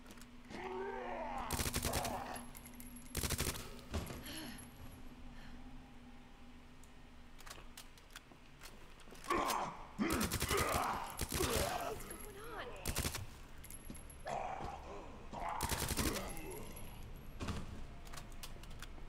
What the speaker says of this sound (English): I try and fire in short bursts just to make sure I'm not wasting too much ammo.